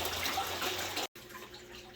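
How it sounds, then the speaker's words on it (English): Water circulating through a greenhouse aquaponics system, a steady rushing and splashing flow that cuts out abruptly for a split second, then resumes more softly, with no voices. "we're going to start cycling water through here"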